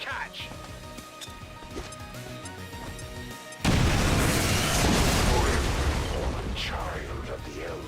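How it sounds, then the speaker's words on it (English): A grenade detonates in XCOM 2: after a stretch of game sound and effects, a sudden loud blast hits and rumbles on for several seconds, slowly fading. "I will toss a grenade."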